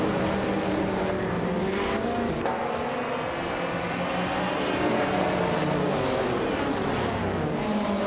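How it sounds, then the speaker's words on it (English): Race cars, including a classic 1986 Porsche 961 LM, racing on the Road Atlanta Short Track in a racing video game; a dense, continuous roar of several engines close by, loud and sustained throughout. "the race kicks off at Road Atlanta Short Track, and leading the pack is Bobote in a classic 1986 Porsche 961 LM"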